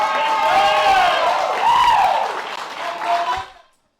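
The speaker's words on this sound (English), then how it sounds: "The crowd is so loud." A crowd applauds at the 2019 East Coast National poker championship, a broad hiss of clapping under a commentator's steady speech before fading out at the end.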